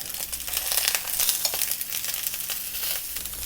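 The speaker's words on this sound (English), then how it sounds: "let's just slowly pan fry this for a while first" Loud, close sizzling of pork ribs pan frying, a dense crackling hiss with bursts of spitting fat throughout.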